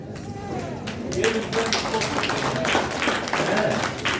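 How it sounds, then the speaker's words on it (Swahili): Hands clapping at an outdoor community gathering of Nakuru residents, a steady patter of applause from a crowd that swells and continues throughout, mixed with background voices. "Kwa hivyo nataka nipige hiyo makofi na tuungane pamoja"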